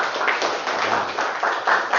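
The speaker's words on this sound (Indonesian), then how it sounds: "tepuk tangan untuk kita semuanya" Applause from a small group at the close of a culinary arts class session, a brief stretch of scattered, moderately loud clapping.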